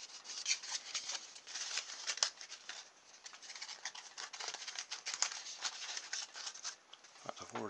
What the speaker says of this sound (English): I'm just going to cut one of these cups up